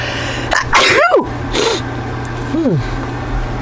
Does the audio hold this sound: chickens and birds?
no